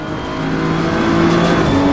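A damaged Honda race car limps around the Bathurst circuit in a racing video game, its engine droning steadily with a strained, wavering tone, loud and close for a couple of seconds.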